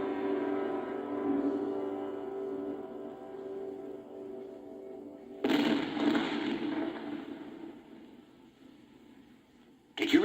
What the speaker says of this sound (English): That was the cannon on the Chateau d'If.